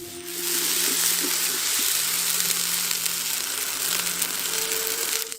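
Ground spice paste frying with onions in a pan for mutton curry, a steady close sizzle and crackle with faint stirring scrapes throughout and no one speaking.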